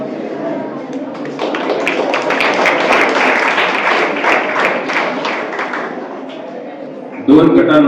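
An audience claps at a taluka-level oratory competition prize distribution. The sustained applause swells and then fades over several seconds, with a voice and a louder thump near the end.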